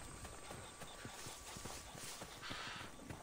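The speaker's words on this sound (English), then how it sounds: "how do I call my horse" Hooves clip-clop in quick, regular beats as a horse gallops in Assassin's Creed Odyssey, close and distinct over a soft background bed.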